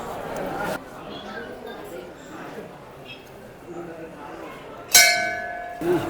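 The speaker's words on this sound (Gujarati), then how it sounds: "ગરુડ ઘંટ છે" Amid a murmur of people talking at Bhavnath temple in Junagadh, a Garuda temple bell is struck once, sharp and bright, its metallic ring lingering before another brief clang.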